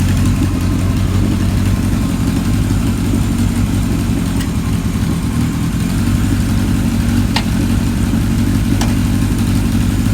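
A 1978 Kawasaki KZ1000 LTD engine idles steadily up close, a loud, even low rumble with a constant pulse and no revving, no voices heard.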